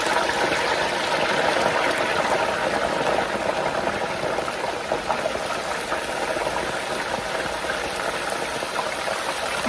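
Chicken wings frying in hot grease, a loud, dense, steady bubbling and crackling sizzle that fills the whole stretch with no voices over it.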